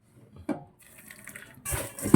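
Water runs from a tap onto sliced bitter gourd in a bowl, starting with a short splash, then a faint trickle and a louder pouring burst at the end.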